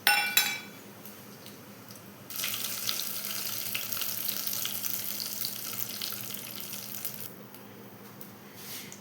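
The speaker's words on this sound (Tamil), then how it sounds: "நம்ம பட்டை சோம்பு போட்டுக்கலாம்." Cinnamon and fennel seeds tempering in hot ghee and oil for tomato rice, a steady loud sizzle starting suddenly after a brief clatter and holding for several seconds before fading slightly near the end.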